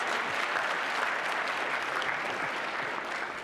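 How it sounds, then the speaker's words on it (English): An audience at a university startup showcase gives a steady round of applause, dense even clapping that holds from start to finish at moderate loudness. "Let's give another round of applause to our founders."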